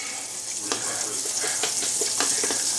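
Butter sizzling steadily in a hot pan while chickpea pancakes are being made, a close, continuous bright hiss with faint crackles and light pops scattered throughout.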